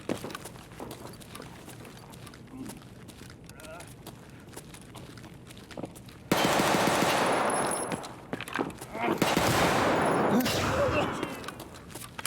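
Video game gunfire during a Factory raid, scattered shots early, then a long loud burst of rapid automatic fire followed by another sustained volley, with people talking throughout.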